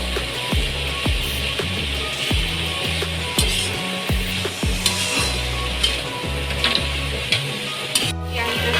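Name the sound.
vegetable curry masala frying in a pan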